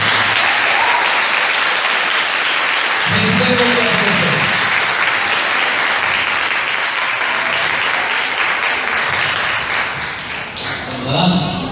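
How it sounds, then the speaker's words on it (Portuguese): A church congregation at a thanksgiving service applauds in sustained, loud, dense clapping that holds steady and fades slightly near the end, with voices mixed in underneath. "uma salva de palmas para elas."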